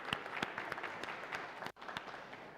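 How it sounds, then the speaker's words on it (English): Audience applause at a digital assets launch event: steady clapping from a crowd throughout, with a brief dropout near the end before the clapping resumes. "We should give it a round of applause."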